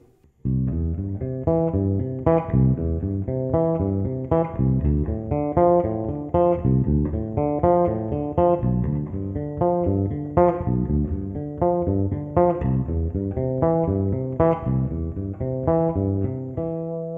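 A bass guitar plays Bach's Prelude in C as a steady repeating arpeggio pattern, each plucked note ringing into the next, climbing and falling in an even rhythm.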